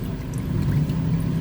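CVT transmission fluid drains from a 2024 Toyota Raize with a 1.5-litre three-cylinder engine, a soft, steady pouring trickle into a catch container, continuous and close with no voices.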